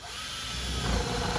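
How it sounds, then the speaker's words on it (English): A step drill bores a hole during a commercial Solatube LED light kit installation, a close, continuous power-tool whir with grinding texture that grows slightly louder as it cuts. "the step drill is really nice to use, because it makes a nice, clean, easy hole"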